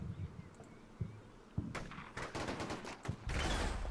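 A video game firefight with scattered gunshots and bursts of return fire, sharp cracks at mid distance that thicken into a denser exchange toward the end.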